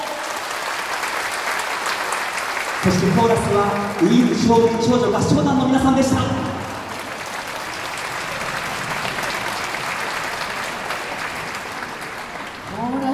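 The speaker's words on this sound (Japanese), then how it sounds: "演奏皆さんもう一度大きな拍手を。" An audience applauds a live performance by a police band with a girls' choir at an autumn concert, sustained clapping running the whole clip, fuller at first, while an announcer speaks over it.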